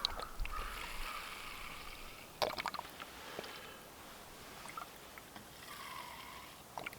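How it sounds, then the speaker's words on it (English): Alcohol fuel poured into small camping stoves outdoors for a boil test of stainless steel and titanium cook kits, a soft trickling pour with a few light clinks, faint and close, no talk. "Put about 2 ounces of alcohol in each stove."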